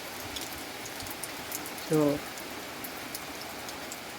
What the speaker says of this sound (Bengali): আমাদের বাড়ির পরিস্থিতি বৃষ্টির ভিতরে খুব বৃষ্টি পড়ছে